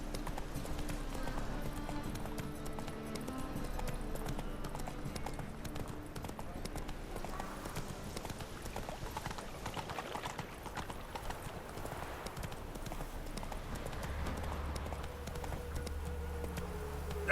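Roach, Geralt's horse in The Witcher 3, gallops with a steady, rapid clip-clop of hooves that runs the whole way through over a dense, continuous game soundscape.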